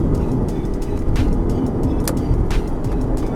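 A car fitted with a Pedalbox electronic throttle controller by DTE System, set to its top mode and on large wheels, accelerates hard with the throttle pressed, giving a loud, steady engine and road roar close by.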